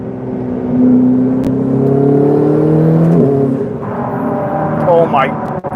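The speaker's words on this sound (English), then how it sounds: "those turbos, I don't know if you guys can hear those turbos, but that sounds crazy" Turbocharged Ferrari 488 GTB engine pulls hard from inside the car, a loud droning note climbing in pitch, then easing off as a faint rising turbo whistle comes through.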